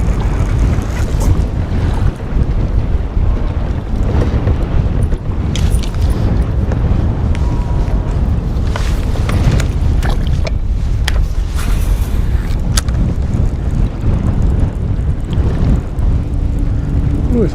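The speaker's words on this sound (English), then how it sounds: "ooh, it's windy out here too." Strong wind buffets and roars across the microphone throughout on Lake Chickamauga in late spring, with gusty rumbling and faint water sounds beneath.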